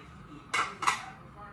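Squash being stirred in a cooking pot: two quick, faint metallic scrapes of a utensil against the pot, close by, with low kitchen background.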